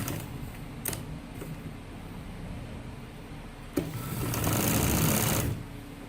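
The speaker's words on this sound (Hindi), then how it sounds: "ऊपर से हम 2 दफ़ा सिलाई लगाएंगे इसके किनारे से" A sewing machine stitches along the edge of a gents' kameez front pocket, a steady fast whirring run with a louder burst near the end, heard close and alone without speech.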